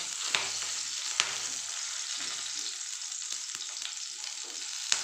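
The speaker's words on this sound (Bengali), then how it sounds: "3টে চেরা কাঁচা লঙ্কা, এক 2 মিনিট নেড়ে নেব।" Slit green chillies and a little ginger are stirred and fried in a pan for a lentil dish, making a steady close sizzle broken by a few sharp utensil clicks.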